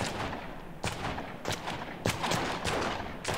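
Gunfire in the video game Fallen Earth, with a run of sharp shots cracking at irregular intervals over a dense, steady rumble of background noise.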